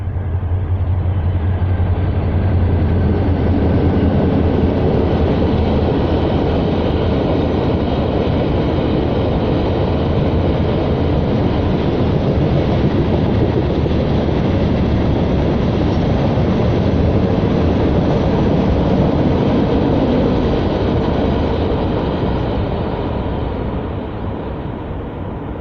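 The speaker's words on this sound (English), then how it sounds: "we're going to hear the noise of a train." A passing train sends up a steady, loud, broadband rumble that holds evenly for about twenty-five seconds and eases slightly at the end, with no voices over it.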